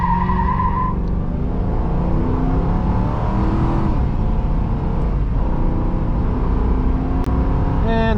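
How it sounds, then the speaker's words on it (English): A 2008-2011 Ford Crown Victoria P71 Police Interceptor accelerates hard from a standstill toward 60 mph, its V8 roaring steadily close-up from inside the cabin, with a rising engine note and brief tire squeal at launch. "let's actually do a 0 to 60 run."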